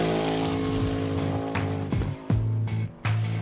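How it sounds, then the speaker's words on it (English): A NASCAR Next Gen Garage 56 Chevrolet Camaro ZL1 race car with a naturally aspirated 5.8-liter V8 roars loud and close, its engine note rising and dropping through several sharp gear shifts. "The full name is NASCAR Next Gen Garage 56 Chevrolet Camaro ZL1"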